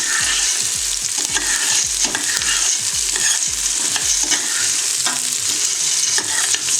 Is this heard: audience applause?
no